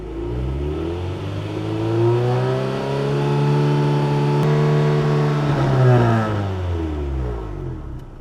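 An Acura Integra engine with stock exhaust revs during a decibel test, rising smoothly in pitch, holding, then falling back, clear and fairly close with no talking.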